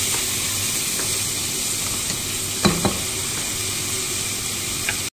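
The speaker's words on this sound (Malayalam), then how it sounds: "നല്ലൊന്ന് വഴറ്റി വരണം കേട്ടോ. നല്ല ഇളക്കി കൊടുക്കുക." Onions with salt sauté in a pan for a Kerala-style king fish curry, giving a steady, loud sizzle throughout, with a couple of sharp spoon knocks against the pan near the middle and one more near the end.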